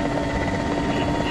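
A helicopter flies in the military game ArmA 2 ACE, its steady rotor thump and engine drone loud and continuous throughout, with no voices over it.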